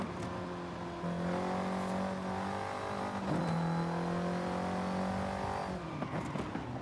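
Engine of a fast car in the racing game Forza Horizon 5: a steady, loud whine that climbs through gear shifts with brief dips between them, and no voices.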